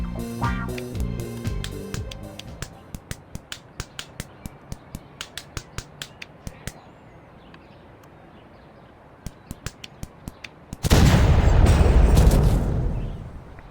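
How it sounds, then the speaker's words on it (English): A car explodes in an OUYA video game demo, a sudden loud booming blast near the end that follows a long series of sharp, evenly spaced clicks. "A fuel tank just burst out of that exploded car. That explosion that we caused."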